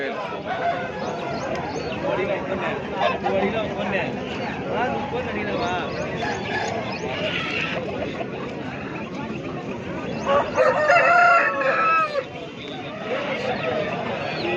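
Chickens cluck and a Chilakamuttu-breed rooster crows near the end at a busy Sunday poultry market in Pileru, with steady chatter from people all around.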